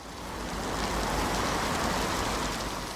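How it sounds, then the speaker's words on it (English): Steady rain falls as a dense, even hiss that swells slightly in the first moment, then holds constant and fairly loud throughout, with no voices. "it's raining."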